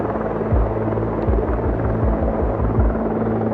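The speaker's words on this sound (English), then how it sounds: "now the helicopter's over here" A helicopter passes overhead at night, loud and steady, with a deep rhythmic rotor thump throughout.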